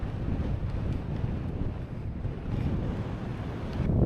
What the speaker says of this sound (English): A very windy High Seat.